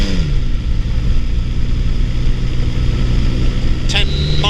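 A flexwing microlight engine drones steadily and loudly in flight as power is pulled back, the low hum dropping slightly in pitch, with a brief higher whine near the end.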